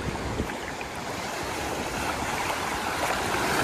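Waves wash steadily onto Playa San Juan beach in Alicante, a constant broad roar mixed with wind buffeting the microphone and no voices.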